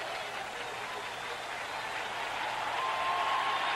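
Football crowd at a 1976 Kentucky versus Penn State college game applauding the defense, a steady wash of distant clapping and cheering that swells slightly toward the end, with no voices standing out.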